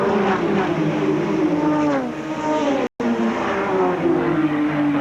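Touring cars race at Lakeside Raceway in the 1991 Australian Touring Car Championship, engines loud and close, their pitch sliding down and climbing again as they work through a tightening right-hander, under a brief dropout.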